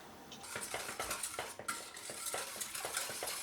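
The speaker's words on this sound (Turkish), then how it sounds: "Öncelikle muhallebimi güzelce karıştıracağım." A spoon stirs vanilla pudding in a metal pot, with rapid, continuous scraping and clinking close up and no voices.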